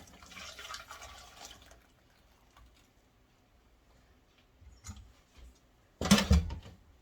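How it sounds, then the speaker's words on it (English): Homemade custard for butter pecan ice cream pours back into a cooking pot in a short, loud liquid rush at the end, after a faint murmur and a quiet pause. "Now we're going to pour it back in our pot."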